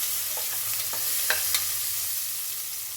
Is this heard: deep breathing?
no